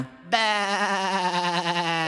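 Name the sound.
sheep bleating, cartoon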